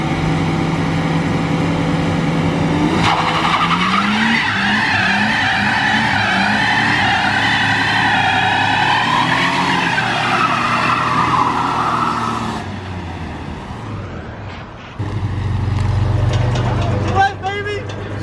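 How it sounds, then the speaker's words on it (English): A truck does a burnout, one wheel spinning against the pavement. A loud engine roars and revs with sustained tire squeal and skidding for several seconds, then drops and surges again, close and continuous. "so we'll see if it'll do a burnout"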